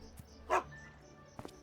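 A dog in the Animal Shelter 2 video game gives a short bark, then two quick yips near the end of the clip, each brief and distinct against a quiet game background with faint music.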